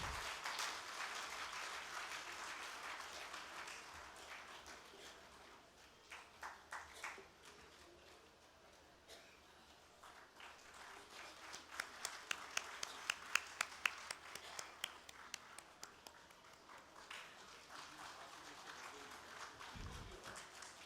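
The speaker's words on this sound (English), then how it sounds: "Everybody, please keep the applause coming." Audience at an international infrastructure conference applauds steadily for many seconds, dense clapping that fades, then swells again with sharper individual claps before tapering off, with a brief voice near the end.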